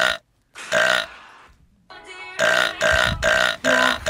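A string of loud, close burps, one long drawn-out belch followed by several strong rhythmic eructations in quick succession, with short pauses between them.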